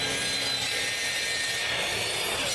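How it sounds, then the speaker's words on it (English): A miter saw crosscuts wood boards in a workshop, a loud, steady rasping whine that holds unbroken throughout with no talking. "After that, I have moved over to my miter saw where I flip boards over when needed to make the larger crosscuts."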